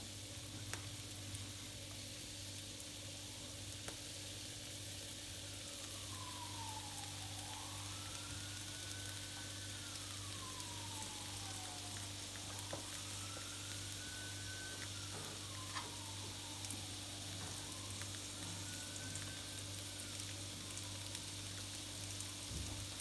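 Meat sizzles steadily on a Korkmaz A316-09 toaster grill: a continuous close hiss and crackle, with a faint low hum and a few gliding tones in the background and no talking.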